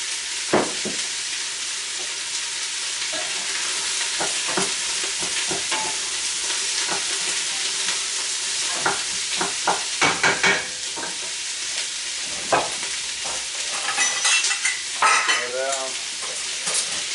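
Onion, celery and garlic fry in a soup pot with a loud, steady sizzle, broken by scraping stirs and clacks of a utensil against the pot, with no voices.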